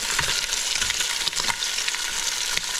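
Peking-style Chinese pork ribs sizzle as they brown lightly in a pan, a bright continuous hiss broken by small pops and a few stirring knocks, close up and with no talking.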